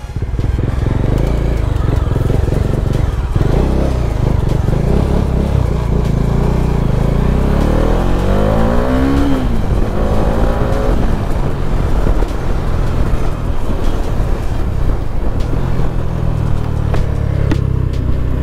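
A Bajaj Pulsar 220 motorcycle engine running while being ridden, a loud continuous close-up drone that rises and falls with throttle changes, blended with wind rush and road noise, with brief voices over it.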